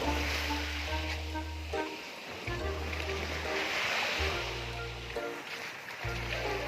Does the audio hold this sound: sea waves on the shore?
yes